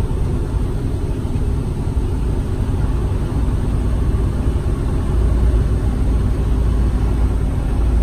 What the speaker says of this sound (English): This truck's been idling for a couple hours now.